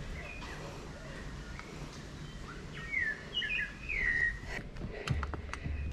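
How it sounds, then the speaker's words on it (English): Outdoors in a rainforest, a few birds whistle and chirp in short bursts against a steady background hiss, with faint rustling near the end. "Can you hear all the birds singing?"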